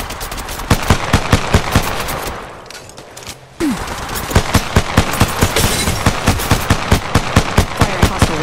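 Rapid bursts of gunfire from a mobile shooter game played on an iPhone, dense repeated shots close by with a brief lull midway before steady firing resumes.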